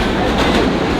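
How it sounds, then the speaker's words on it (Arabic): A fast-moving Alexandria tram running on its rails gives a loud, steady, close rumble with a continuous rolling roar and no distinct breaks. "ده احنا راكبين ملاهي مش الترام ده"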